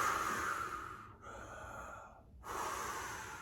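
A demonstration of stomach breathing that pushes the belly out: a loud, close, breathy inhale, a short pause, then a long rushing exhale, with no talk.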